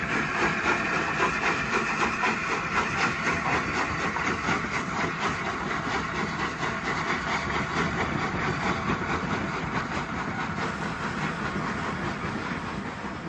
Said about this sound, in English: Into the old Platform 5 comes V2 60871 in extremely grimy condition